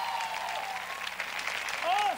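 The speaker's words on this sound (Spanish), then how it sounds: "¡Un aplauso!" Studio audience at a Spanish-language comedy monologue bursts into loud, continuous applause, with cheers and a whooping voice rising near the end.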